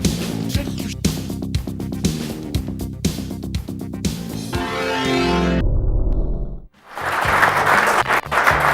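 A cyclocross race crowd in Mussolente breaks into loud, sustained applause near the end, following a stretch of rhythmic, music-like sounds and a brief drop to quiet.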